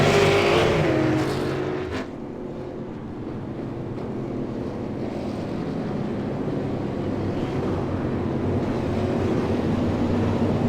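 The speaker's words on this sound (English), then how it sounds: "Brody Byer, he's just starting to get rolling" Race cars roar through the start of an iRacing online league race, loud sustained engine noise with a burst at the opening, then a steady dense drone of many cars with wind-like rush.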